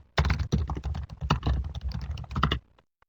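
Quick, close clatter of keys as text is typed on a computer keyboard, a dense run of clicks lasting about two and a half seconds before stopping.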